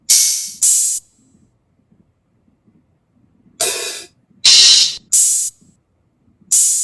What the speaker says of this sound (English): I need an open hi-hat that sounds like a sizzle.